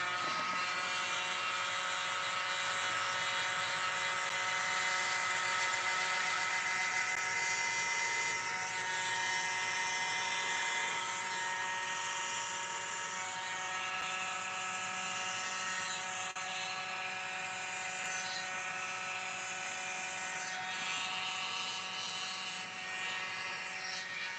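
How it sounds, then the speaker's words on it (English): A tiny electric blower runs steadily for the whole stretch, a constant high-pitched whirring hum of rushing air, close and unchanging, with no one talking. "Now I'm going to use the world's smallest blower, which is this, just to blow it out."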